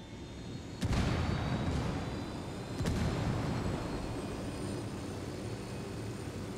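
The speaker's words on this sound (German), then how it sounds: "An dem her kann ich den Heli eigentlich starten." Helicopter starting up in the video game Ghost Recon Wildlands: two sharp bangs followed by a rising, steady engine roar that settles into a sustained whine, with no voices.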